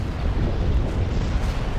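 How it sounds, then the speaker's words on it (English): A deep, rumbling ion cannon blast from a Star Wars: Empire at War space battle, a loud sustained boom that rolls on without a break. "Ion cannon firing."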